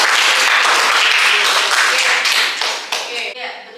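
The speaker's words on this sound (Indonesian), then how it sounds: "Aplaus dulu untuk Mbak Mei." A room full of people gives a speaker dense, loud, sustained applause from many hands at once. It stays even for about three seconds, then thins into a few scattered claps as it fades.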